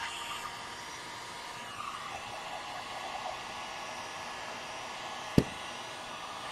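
A heat gun heats resin with a steady, loud blowing hiss that runs throughout, and a single sharp click or pop stands out near the end.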